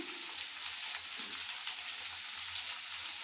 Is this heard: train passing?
no